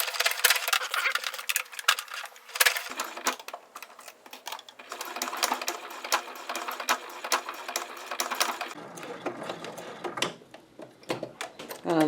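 A sewing machine top-stitching leather beside a zipper, presser foot running in quick mechanical bursts of needle clatter with short pauses and stops, close and fairly quiet, with no talk.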